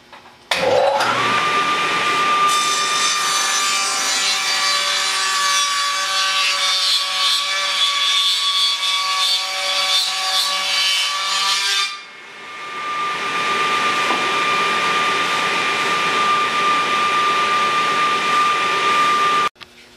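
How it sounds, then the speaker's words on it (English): Table saw cutting a dado into wooden picture frame trim, a loud, close, sustained whine with a steady high tone that drops briefly near the middle before the blade keeps spinning. "we've got that first dado cut in there"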